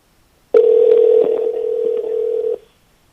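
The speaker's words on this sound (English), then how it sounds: "You can hear the dial tone." A steady telephone dial tone from a Logitech P710e speakerphone hums loudly for about two seconds, then cuts off abruptly.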